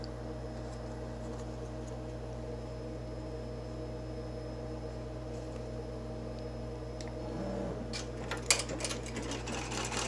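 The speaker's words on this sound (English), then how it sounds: "And this is going to stitch out our mirror shapes." An embroidery machine stitches mirror shapes through vinyl on a zipper bag, giving a steady, quiet, even whir with faint clicks toward the end.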